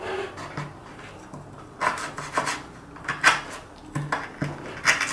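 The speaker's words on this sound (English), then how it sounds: "it can cut through the rope, but it requires gouging" A knife blade gouging through a fresh piece of rope gives repeated short rasping, rubbing strokes, close and fairly loud, several rough bursts in a row with no talk.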